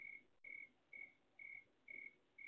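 A cricket chirps in a steady rhythm, about six evenly spaced trills against a quiet night background.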